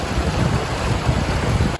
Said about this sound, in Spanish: Encontramos una cascada